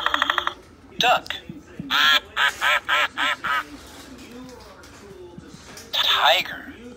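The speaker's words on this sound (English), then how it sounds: "Duck." A duck quacks repeatedly up close in loud, nasal bursts: an opening call, then a quick run of five rhythmic quacks and one more call after a pause.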